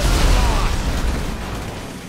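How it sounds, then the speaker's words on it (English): A heavy grenade blast from a grenade launcher in GTA V, one loud booming burst that rumbles and slowly decays, alone without talk. "Damn right, he's launching grenades."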